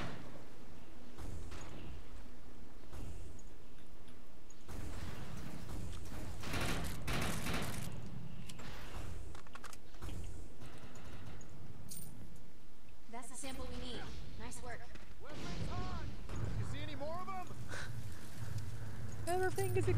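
Explosions going off in the ChaosNova video game, a chaotic run of loud booms and crackling bursts mixed with rattling debris and electronic effects, with a voice talking over it.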